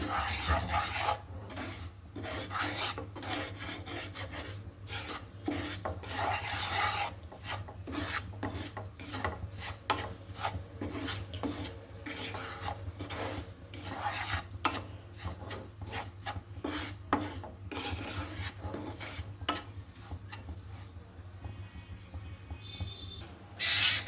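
A spoon scrapes over and over through a bread gulab jamun mixture in a pan, making steady rhythmic rasping strokes that carry on close by for a long stretch, with no talking.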